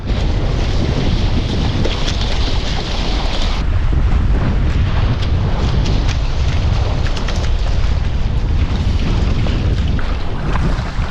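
Strong wind gusting across a sailboat under way in a building nor'easter, a loud steady roar buffeting the microphone, with rushing water and hull noise beneath for the whole stretch.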